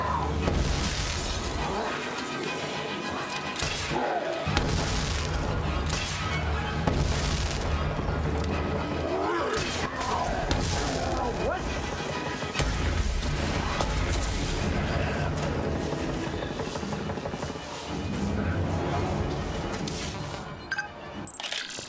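Repeated booming, shattering fire from the fish launcher weapon in the zombie game Dead Rising 4, loud and dense over a busy game soundscape, with bursts recurring every few seconds.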